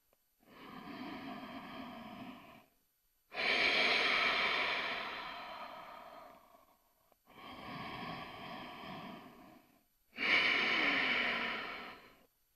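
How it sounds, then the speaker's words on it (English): Slow, deep breaths in and out, four long audible breaths alternating inhale and exhale, close to the microphone with quiet gaps between. "Breathe in, and breathe out."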